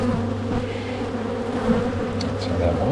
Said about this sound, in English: Very grumpy bees.